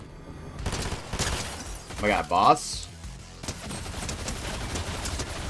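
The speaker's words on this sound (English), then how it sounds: "I just want to shoot the car." Gunfire from a Fortnite Chapter 5 match aimed at a car, heard as dense rapid shots across the clip with a louder burst in the middle, under excited talk.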